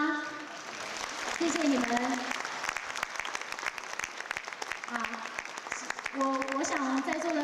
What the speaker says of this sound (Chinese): 热烈的掌声，感谢我们来自巴厘岛的4位音乐家